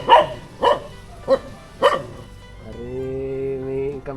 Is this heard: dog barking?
yes